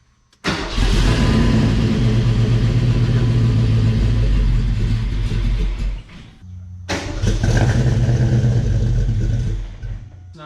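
A 306 HCI V8 in a Fox body Mustang starts abruptly and runs loud and close with a rough, pulsing idle, cuts out for a moment, then restarts and runs again before dropping off.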